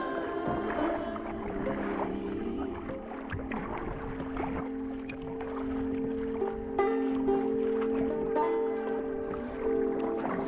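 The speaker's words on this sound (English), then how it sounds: "I set off to paddle through the final group of islands in the San Blas" Steady paddle strokes from a sea kayak moving among the San Blas islands, with soft water swishes and drips over a low, constant background, close and moderately quiet.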